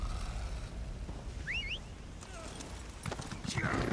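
Faint, steady clip-clop of horse hooves trotting along in The Elder Scrolls Online, with a soft background hum and a few quiet chirps over it.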